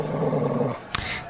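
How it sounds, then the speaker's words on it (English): A boxer dog gives a low, sustained growl up close, which breaks off partway through and is followed by a brief sharp yip or snort. "That's my dog"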